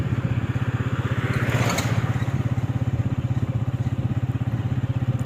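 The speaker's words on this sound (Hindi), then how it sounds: "मैं जा रहा हूँ बाइक पर" A motorcycle rides along a road on a foggy winter morning, its engine putting out a steady rhythmic low throb close by, with a brief whooshing swell partway through.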